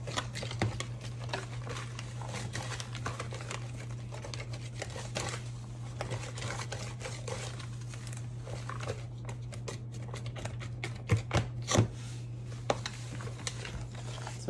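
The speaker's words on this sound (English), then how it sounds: "I'm gonna use my whisk again so I can get a crumble" A whisk works crumble topping into a sandy texture in a bowl for a Southern strawberry recipe. It gives close, irregular scraping and crinkly tapping strokes, fairly soft and steady, with a few sharper clinks near the end over a low hum.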